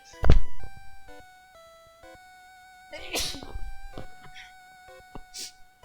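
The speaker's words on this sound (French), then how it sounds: "Je vais éternuer." One sharp, loud sneeze right at the start, followed by quieter sounds and a brief voice over faint tonal background music from the Pokémon Blue video game, in Lavender Town.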